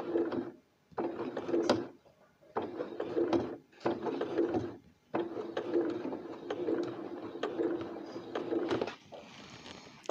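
A sewing machine runs in bursts while stitching a fabric pouch for sanitary pads, a close mechanical whir with rapid rhythmic clatter, starting and stopping several times with brief silent gaps, no talk.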